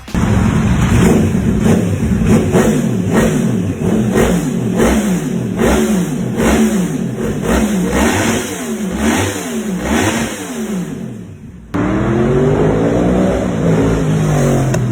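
A Yamaha R1 motorcycle engine revs hard over and over, rising and falling in repeated bursts, loud and close, then settles into a steady rumble near the end.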